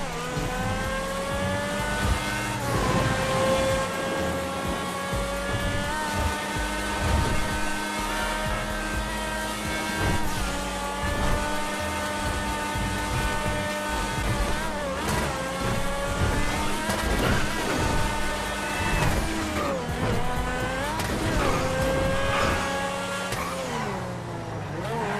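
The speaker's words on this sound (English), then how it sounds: "Instead of putting some music, I'm going to let you guys hear the exhaust." Supercar exhaust in the GTA 5 racing game, a loud continuous engine whine that climbs and drops through repeated gear shifts and revs for the whole stretch, without any talking.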